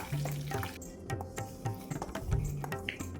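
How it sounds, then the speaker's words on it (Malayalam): Mustard seeds splutter and pop in hot coconut oil in a pan, a quiet run of sharp crackles and sizzling with a few louder pops, heard alone without talk. "ചീനച്ചട്ടിയിൽ നല്ലപോലെ വെളിച്ചെണ്ണ ഒഴിച്ച് കടുകിട്ട് പൊട്ടിക്കണം."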